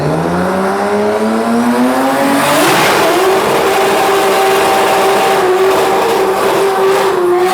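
A loud drag race car in Thailand roars and climbs in pitch as it accelerates hard down the strip, the whine rising steadily and filling the whole stretch.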